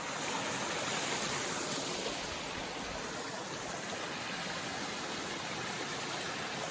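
A small waterfall splashes into a clear plunge pool on a walk in Dentdale, a constant, close, full-bodied rush of falling water with no other sounds.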